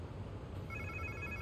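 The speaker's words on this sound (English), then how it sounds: "Sounds like somebody's phone." A phone ringtone in the video game Marvel's Spider-Man 2 starts partway in, a repeating electronic trill sounding faintly over low background noise.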